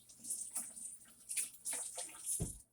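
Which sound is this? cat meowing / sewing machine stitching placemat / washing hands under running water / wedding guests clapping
washing hands under running water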